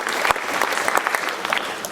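Enthusiastic applause from a school concert audience for the middle school band members, dense steady clapping filling the hall with a few sharper claps poking through.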